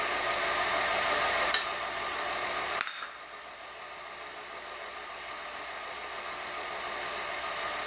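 An electric mixer beats sugar and eggs for Ukrainian Easter paska dough with a loud, steady whir. It cuts out abruptly after about three seconds, leaving only a quiet background hum, and no one speaks.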